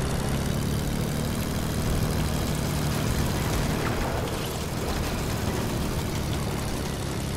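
A plane flies in the Fortnite video game, its steady engine drone continuous and fairly loud throughout, with no talk.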